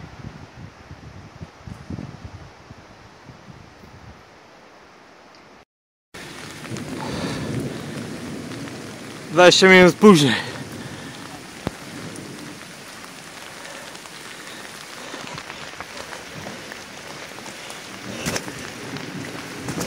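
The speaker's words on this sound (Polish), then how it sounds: "Oj, idzie ta burza, idzie." An approaching thunderstorm with steady rain hissing on surfaces, a sudden loud crack and rumble of thunder midway, and a few sharp knocks afterward; a voice speaks briefly near the start.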